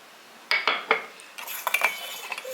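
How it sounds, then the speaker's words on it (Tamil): A spoon stirs crushed pepper and fresh turmeric in a metal pot, making sharp clinks and scrapes against the pot in a few quick bursts, close and with no talk. "இப்படி லேசாக கிளறி கொடுங்க."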